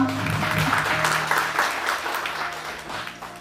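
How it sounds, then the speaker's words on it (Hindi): Applause from the audience at a school graduation ceremony for young children, dense clapping with some musical tones underneath, gradually tapering off over a few seconds. "इन छोटे छोटे बच्चों के लिए जोरदार तालियां।"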